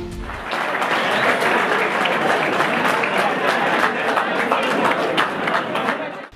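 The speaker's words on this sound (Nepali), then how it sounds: "बुद्धनगर स्थित क्वालिटी ब्याङ्कवेटमा ताली र सुसेलाको गडगडाहट सुनिएको थियो" Applause mixed with whistling and crowd noise fills a banquet hall at a political party event in Buddhanagar. It rises after a brief quiet start, then holds steady and loud throughout.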